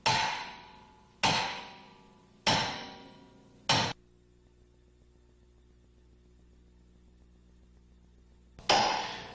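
Hammer blows tightening the tailpiece of a Grundomat P soil displacement hammer: four sharp metallic strikes about a second apart, each ringing out, then a low steady hum before a fifth strike near the end.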